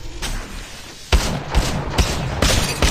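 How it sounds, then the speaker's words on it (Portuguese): Gunfire in the video game Apex Legends strikes the player in a rapid fusillade of loud, punchy shots and impacts, closely spaced and dense over the whole stretch. "Se liga aí, eu tô levando tiro."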